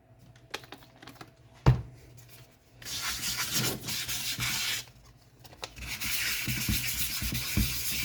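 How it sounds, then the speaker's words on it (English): Bursts of wet sanding by hand with 400 grit sandpaper, a rough rhythmic scrubbing that starts and stops, with a sharp knock early on and quieter gaps between strokes. "Wet sanding is the absolute last step before getting ready to start painting."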